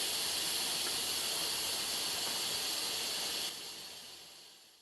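A pressure cooker's steam valve hisses steadily as it releases pressure while chili cooks, a loud continuous broadband rush that holds for several seconds and then drops to a softer hiss near the end.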